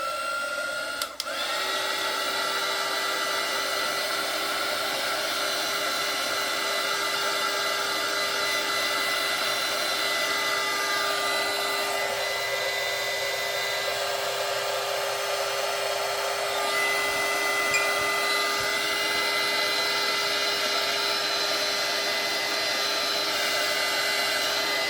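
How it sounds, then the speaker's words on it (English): A heat gun blows a loud, steady whooshing roar at close range over a painted bookmark, running continuously after a brief click at the start. "I'm going to hit this really quick with the heat gun."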